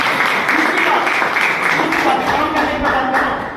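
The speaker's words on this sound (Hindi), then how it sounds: "सर के लिए तालियां" A group in a meeting hall applauds with steady, dense clapping that stays loud throughout, with a voice faintly mixed in.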